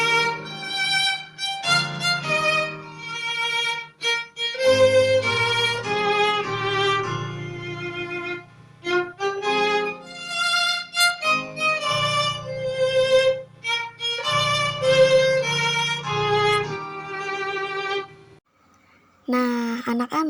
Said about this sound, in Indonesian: Senar biola yang digesek menghasilkan bunyi.